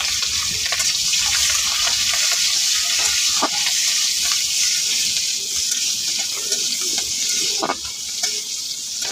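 Oil sizzling and frying in a wok (kadai) with dried and green chillies, a steady loud hiss with occasional clicks and stirring scrapes, no talking.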